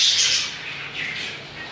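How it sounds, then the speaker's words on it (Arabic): Pet birds squawk loudly and continuously at close range while eating apple, their harsh, high calls overlapping in a dense burst. "العصافير كلها بتاكل من التفاح"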